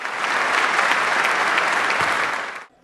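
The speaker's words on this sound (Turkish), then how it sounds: "CHP'liler AKP'yi ayakta alkışlayarak protesto etti" Dense, steady applause from members of parliament standing in protest during a critical vote, loud and continuous before cutting off abruptly at the end.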